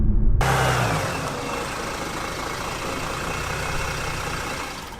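A Mercedes E350 engine accelerates hard, a loud, steady roar that holds strong and close for several seconds before easing slightly at the end, with no talking.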